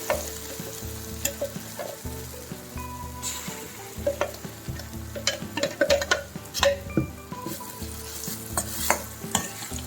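Ground curry leaf chutney fries in oil while a spatula stirs it, giving a continuous sizzle punctuated by rhythmic scraping and light clanks against the pan.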